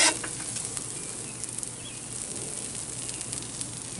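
Meat sizzles on a hot griddle as it cooks for omelets, a loud, close, steady crackling hiss that flares at the start and continues without talk.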